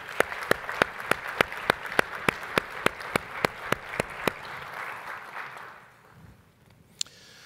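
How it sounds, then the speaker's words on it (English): Audience applause at a bus safety and security awards ceremony for Certificate of Merit and Gold Award winners, with a steady clapping rhythm that fades out after about five seconds and leaves near silence. "Let's give all of our Certificate of Merit winners and Gold Awards winners another big round of applause"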